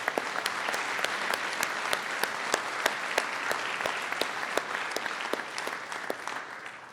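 A conference audience applauds its general chairs at a cryptography hardware conference rump session, a steady round of clapping in a hall with a few sharp individual claps standing out, holding for several seconds and then easing off.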